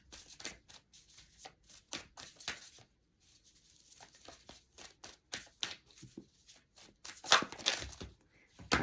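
Tarot cards shuffled by hand in a series of quick papery riffles and patters, close and fairly soft, with short pauses between bursts and no speech.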